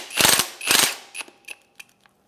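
A wrench loosening the strut nut on a 2007-2013 Acura MDX: two longer ratcheting bursts followed by a few short, fading clicks, close and distinct with no talking.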